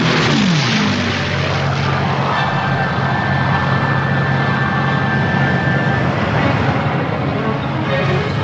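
Propeller planes roar steadily on an aircraft carrier flight deck as they are catapulted off the ship, a loud continuous engine drone with a thin whine passing through, with no voices.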